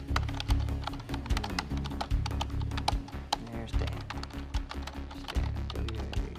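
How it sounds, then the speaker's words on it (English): In the video game Quantum Break, a character types on a computer keyboard, producing rapid irregular clicking taps over a low rhythmic music bed, with a voice talking at moments. "Hey look, it's the randomly typing dude."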